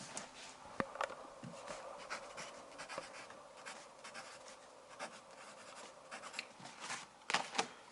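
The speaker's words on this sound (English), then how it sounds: "Let's start writing triplet." A pen writes music notation by hand with steady, soft scratching strokes up close and occasional small taps. Nobody speaks.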